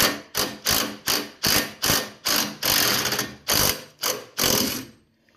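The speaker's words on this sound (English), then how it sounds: "Take bottom bolt out." Ratchet wrench loosening the bottom shock bolt on a touring Harley-Davidson, heard as about ten quick, close, loud bursts of clicking, one after another with short gaps.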